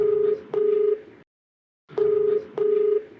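Telephone ringback tone on an outgoing call, two pairs of steady electronic beeps separated by a silence, clear and close with no talking.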